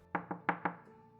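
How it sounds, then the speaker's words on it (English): Four soft, quick knocks on a wooden door, evenly spaced, followed by quiet. "there came a gentle tap on the door"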